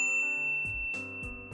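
A bright notification bell dings several times in quick succession, clear and close with ringing metallic overtones and no voices.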